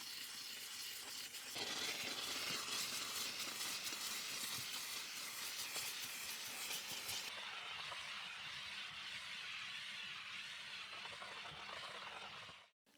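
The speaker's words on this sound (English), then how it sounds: "I also used my Karcher SC3 steam cleaner in order to further deep clean some of the plastic areas" A Karcher SC3 steam cleaner hisses continuously while deep cleaning the plastic interior trim of a Renault Megane, a close, loud rush of steam that softens midway and cuts off abruptly at the end.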